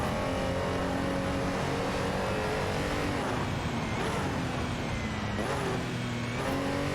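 Race cars, including a Renault Clio and a Porsche 911, overtaking in a racing video game, with several engines roaring and revving closely together and pitch rising and falling as they pass.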